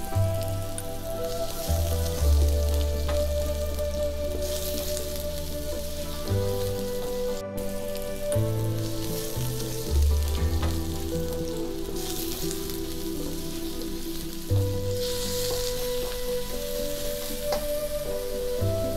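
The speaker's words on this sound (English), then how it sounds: "Go ahead and put my scallions and my shallot." Sliced scallions and shallot fry in a pan over medium heat, giving a steady, close crackling sizzle that runs throughout, with tonal music playing underneath.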